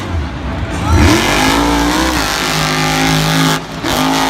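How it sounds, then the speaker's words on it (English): A monster truck engine roaring at full throttle during a freestyle run at Monster Jam in Tampa, a loud sustained rising rev with a short dip near the end, heard under a commentator's talk and crowd noise. "Going full throttle over that center ramp"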